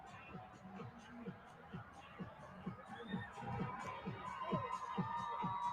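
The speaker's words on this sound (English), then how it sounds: "Crowd is electric here in Atlantic City" Basketball crowd at a MAAC tournament championship game in Atlantic City, a steady, fairly faint roar of cheering and chatter running under close commentator speech.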